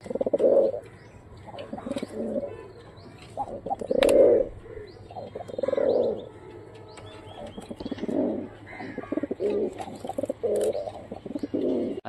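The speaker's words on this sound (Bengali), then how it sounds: "রাজশাহীর লোকাল হাই কোয়ালিটির গিরিবাজ কবুতর দেখাবো" Giribaz pigeons of a local Rajshahi breed coo in repeated soft, throaty bursts, close by, with brief chirps from other birds and no talking.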